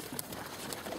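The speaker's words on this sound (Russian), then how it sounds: "Ой, мои голуби какие хорошие." Domestic pigeons cooing softly at close range, a brief low murmuring coo with faint wing and shuffling sounds, no talking.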